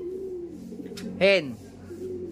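A single soft pigeon coo rises and falls close by, over a steady low hum with a faint chirp just before it.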